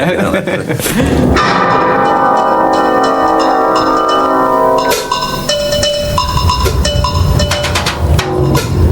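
Bells ring out a tune on the Isle of Wight, loud overlapping chimes struck one after another with long ringing decay, close and continuous with a brief break midway.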